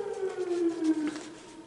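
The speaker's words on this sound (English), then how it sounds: "the Lord bless the tornado siren and their practice sessions" A tornado siren sounds at a distance during a practice test, its faint, steady wail sliding slowly in pitch and carrying on without pause.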